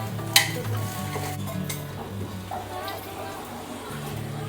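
Eggs sizzle and fry in masala with ginger-garlic paste and biryani masala as a spoon stirs and scrapes the pan, a sharp clink near the start, continuous close frying with a voice murmuring in the background.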